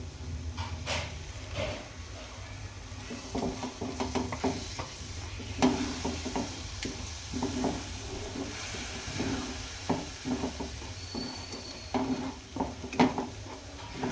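Tomato paste stirred into frying masala for shahi paneer in a pan, giving a steady close sizzle with repeated scraping and clinking stirs throughout and no talk.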